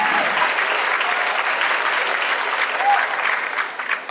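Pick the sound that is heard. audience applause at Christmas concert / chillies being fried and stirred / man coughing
audience applause at Christmas concert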